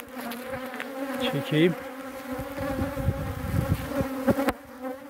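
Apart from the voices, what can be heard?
honeybees buzzing outside the hive in the sun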